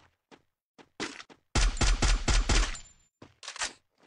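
Gunfire in the Free Fire mobile battle game: scattered single shots, then a loud rapid burst of several shots, then a few more bursts.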